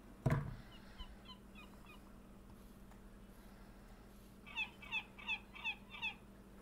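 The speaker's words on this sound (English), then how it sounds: "I heard a seagull." A gull cries in Minecraft, a short run of five evenly spaced squawks standing out over a low steady hum, after one sharp thump at the start.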